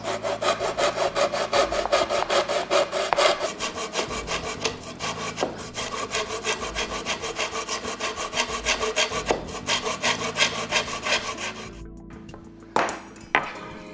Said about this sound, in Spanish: Volvemos a introducir el serrucho y seguimos cortando.